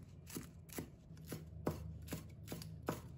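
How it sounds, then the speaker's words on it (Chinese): Scallion greens being chopped with a kitchen knife on a cutting board, eight or so evenly spaced thumping cuts in a steady rhythm, close up and fairly quiet, with no voices. "葱叶也切成葱花"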